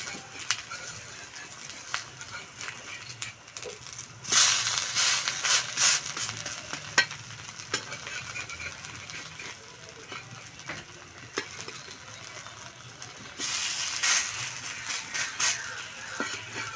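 An onion and semolina snack fries in a pan after being flipped, giving a soft, low sizzle broken by scraping spatula strokes and occasional clinks.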